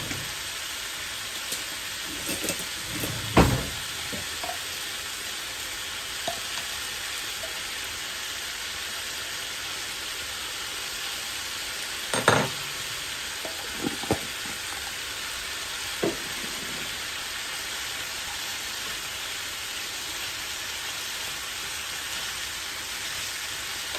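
Garlic sizzles and fries steadily in a pot for beef stew, with occasional louder scrapes and knocks of a stirring spoon against the pot, close and continuous, without talk.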